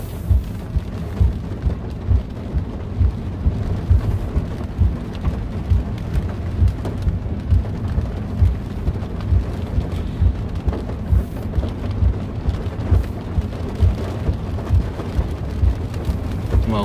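Heavy rain drums steadily on a new Toyota Prius driving at night, a dense continuous wash of droplets over a low road and engine rumble, with no voices.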